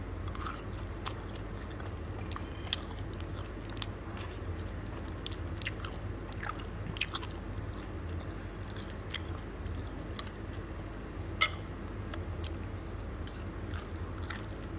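Steady close-up chewing of rice with a Thai fried shrimp and holy basil stir-fry and omelette, soft crunches and wet mouth sounds repeating throughout with no talk.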